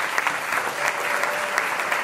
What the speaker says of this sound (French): Félicitations et applaudissements effectivement pour l'OELI